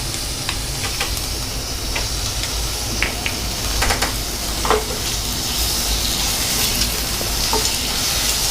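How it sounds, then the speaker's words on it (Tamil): Ginger garlic paste sautés in a hot pan while mutton varuval is being made. Loud, steady sizzling and hissing continues throughout, with occasional stirring scrapes and taps against the pan. "இதுவும் நல்லா பச்சை வாசம் போகிற வரைக்கும் நம்ம நல்லா வதக்கிக்கலாம்"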